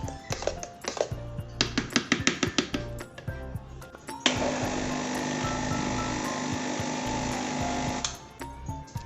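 A kitchen blender grinds a mango ice cream mixture in one loud, steady whir of about four seconds, preceded and followed by sharp taps and clatter of the jar and lid.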